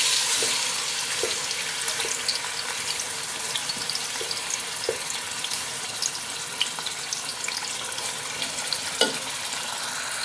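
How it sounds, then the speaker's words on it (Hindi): Tinda vegetables frying in hot oil in a kadhai, a steady close crackling sizzle with scattered pops and occasional stirring clicks, no voices. "तो कढ़ाई में ऑयल गरम है तो डालते हैं"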